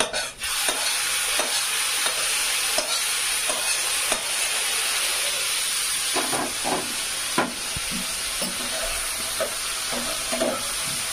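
Spice masala stirred and sizzling in a pan, with a steady frying hiss and repeated scrapes of the spoon throughout, close and loud with no talking.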